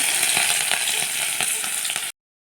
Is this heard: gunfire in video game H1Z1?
no